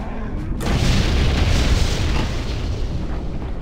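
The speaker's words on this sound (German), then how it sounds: "Und dann explodiert er." A loud, booming explosion in the video game Septerra Core erupts suddenly and rolls on as a long, rumbling roar.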